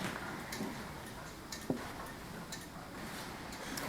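Clocks in a London clock repair shop tick faintly and steadily under a hushed room tone, with a single brief louder click partway through.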